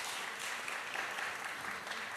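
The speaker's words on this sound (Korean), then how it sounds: "다시 한번 박수 부탁드립니다." Audience applause at a citizens' cultural camp event in Gochang, a steady dense wash of many hands clapping throughout, moderately distant and even in level with no talking over it.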